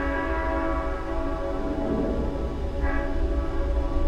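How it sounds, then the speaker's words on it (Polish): A video game train passes as a steady, loud rumble with sustained horn-like tones, filling the whole stretch without a break and with no talk over it. "I teraz idzie pierwszy pociąg."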